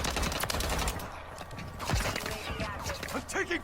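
Gunfire in the video game Call of Duty MW3, rapid shots and bursts mixed with game noise and a voice speaking over it.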